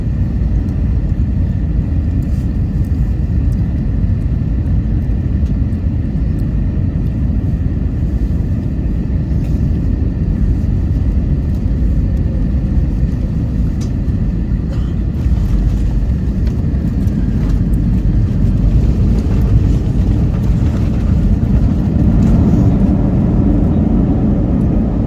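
Airliner landing on runway 9 right at Philadelphia, heard from the economy cabin as a steady loud low rumble and roar of engines and airflow, continuous with no talking.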